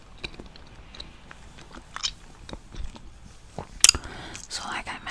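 Gum chewed close to the microphone in a quiet room, with soft sticky smacks and small crunches in an irregular rhythm, some louder bursts, and faint whispering between them.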